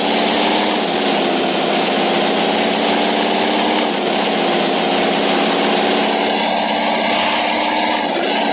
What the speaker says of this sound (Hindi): इस गाड़ी की उतनी खास आवाज नहीं है।